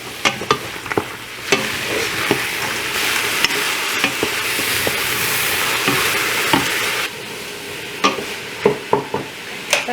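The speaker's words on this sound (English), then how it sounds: "Once your oil is hot, I'm going to put in the carrots and the pepper and let this start sauteing." Carrots and bell pepper sauté in hot oil for a gluten-free orange chicken, producing a loud, steady hiss with a burst of sizzle in the middle and sharp spatula clicks and scrapes at the edges, close up and without voices.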